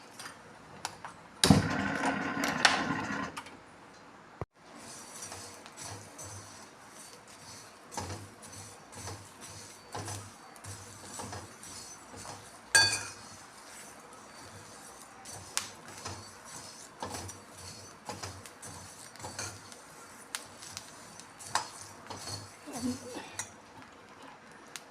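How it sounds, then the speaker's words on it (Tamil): Coriander seeds and dry ginger dry-roasting in a pan give a faint, steady crackle with scattered small clicks and occasional clatter of the pan, after a brief louder burst of scraping near the start. "தனியாலாம் நல்லா பொரிய ஆரம்பிச்சிருச்சுங்க. நல்லா பொரியுது."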